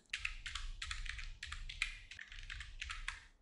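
Rapid clicking of keys on a computer keyboard in quick bursts with brief pauses, close and clear, with no voices.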